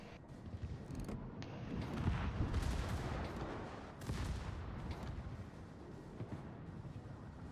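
Secondary guns on the Ipiranga warship in World of Warships boom in a continuous rolling barrage, dense overlapping rumbling blasts at moderate level with sharper cracks scattered throughout.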